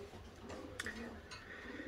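Racing pigeons coo softly in a loft, a few faint, brief calls over a quiet background hum, with no talking.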